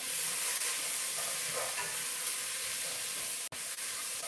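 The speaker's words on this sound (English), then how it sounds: "So we got the veggies going for chili. I like to saute them a little bit" Vegetables for chili sauteing in grapeseed oil in a pan, a steady bright sizzle and hiss throughout, with a brief scrape of a spoon stirring near the end.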